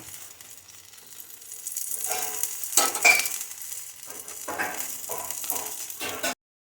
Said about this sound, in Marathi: त्यातून तेल सोडायचं मीडियम गॅसवरती किने असं खमंग भाजून घेऊया